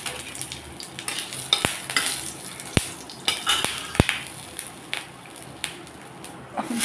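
Nigella seeds and a broken dried red chili temper in mustard oil, a faint sizzle under scattered metallic taps and scrapes of a spoon against the pan, with a few sharp clinks.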